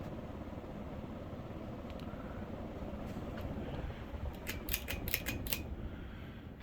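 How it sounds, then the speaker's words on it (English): A Hunter Studio Series 42-inch ceiling fan runs with a steady, soft airy whoosh, joined by a few faint light ticks near the end. "There's a pretty good sum of air for a 42-inch fan."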